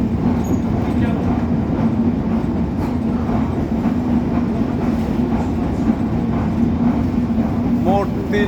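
An old three-carriage train runs nearby with a steady, loud rumble and clattering rattle that carries on without a break throughout.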